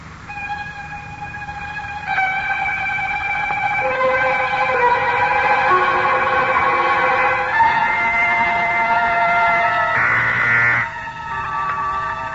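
An ambulance siren in an old-time radio drama wails loudly and continuously, its pitch sliding and shifting as it passes, with a vehicle rumble beneath and no speech.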